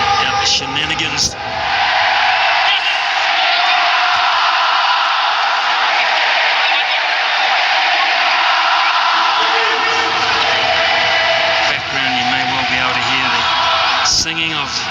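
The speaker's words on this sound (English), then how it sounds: "Singing of this very faithful crowd." A huge crowd singing and roaring at a cricket trophy celebration after India's Champions Trophy win. The sustained, loud, echoing chant fills the whole stretch while a commentator talks over it.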